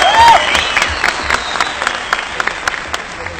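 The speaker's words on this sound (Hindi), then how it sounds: "जोरदार तालियां आप सबके लिए" Loud, dense applause from a crowd at a company event, a sustained wash of clapping that slowly thins, with a brief voice over it at the start.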